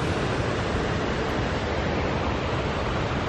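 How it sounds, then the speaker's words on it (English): Winter waterfall outdoors near a footbridge, a steady, dense broadband roar of falling water that stays even and unbroken throughout, with no voices over it. "That waterfall."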